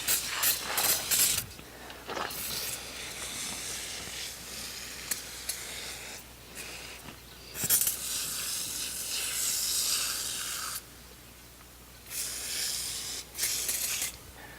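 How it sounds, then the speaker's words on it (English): Degreaser foams on dirty equipment with a steady hiss and sizzle, broken by louder spraying bursts that start and stop every few seconds, close and fairly loud, with no talking. "Notice the degreaser is foaming up."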